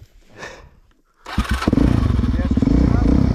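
Quad bike (ATV) engine starting up after a brief pause, then revving steadily and loudly up close with a throbbing, rapid rhythm; a voice is heard beforehand.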